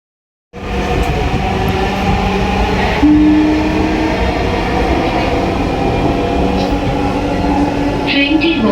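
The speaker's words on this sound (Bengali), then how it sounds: "এখন মেট্রোর জন্য অপেক্ষা বেশিক্ষণ সময় অপেক্ষা করতে হয় না অবশেষে ওনাকে পেলাম" A Dhaka metro rail train bound for Uttara rumbles steadily into a station, a loud continuous roar with a rising whine and faint squeals near the end.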